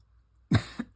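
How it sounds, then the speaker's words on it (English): A single short, harsh cough followed by a small second burst, close and clear in an otherwise quiet room. "I've got a bit of a cough"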